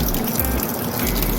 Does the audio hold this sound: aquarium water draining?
yes